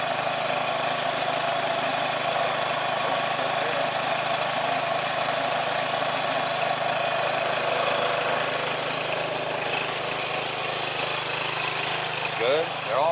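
A gold trommel, just assembled, runs on its engine, giving a steady mid-pitched engine drone with continuous rumble and rattle throughout, fairly loud and close, with a few faint voices in the background.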